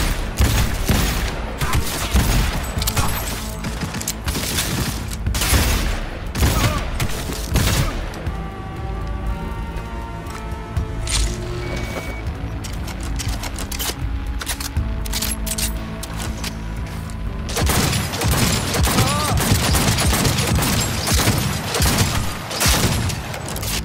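Dense, sustained gunfire in Cyberpunk 2077, with rapid bursts and heavy booming shots stacked over a loud game soundscape, easing slightly midway before intensifying again near the end.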